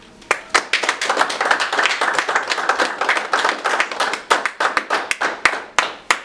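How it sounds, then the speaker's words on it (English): Audience applause at the 2015 NCAS Awards Show, a dense run of hand claps that stays loud and steady for several seconds before thinning into scattered claps near the end. "we should give a round of applause for their success and honor them as well."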